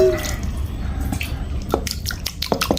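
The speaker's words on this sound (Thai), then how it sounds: "เมื่อล้างสะอาดแล้วเราก็แช่น้ำไว้ก่อนนะครับ" Shallots are washed in water in a kitchen, with close drips, small splashes and sloshing under a low background rumble; no one speaks.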